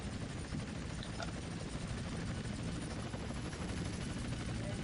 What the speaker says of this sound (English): now at some point I can land this helicopter and save